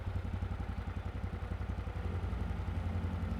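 A quad bike's engine idles in Farming Simulator 25, a steady close low-pitched putter with a fast even pulsing rhythm and slight mechanical clatter, running alone without talk.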